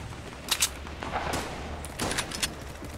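Player gunfire in a Fortnite trios match, a few sharp shots cracking out in short clusters over a busy game soundscape.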